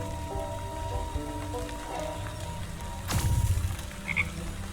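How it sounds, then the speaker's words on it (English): Frogs croak in a swamp in the video game Wytchwood, with several steady croaks over a soft rainy ambience and a brief splash. "There we have a few frogs."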